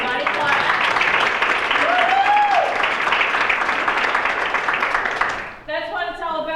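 An audience at a sales meeting breaks into sustained applause, a loud wash of many hands clapping that fades out near the end, followed by a voice speaking.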